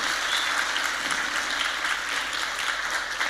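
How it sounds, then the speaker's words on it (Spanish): An audience at a Christian leaders' congress in Chile breaks into applause, a bright, sustained patter of many hands clapping together at an even level throughout. "Quiero pedirle un aplauso para él, por favor"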